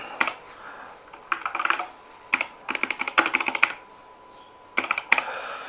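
Typing on a computer keyboard to enter text into a field, with quick close clusters of key clicks in short bursts and pauses between them, no voices.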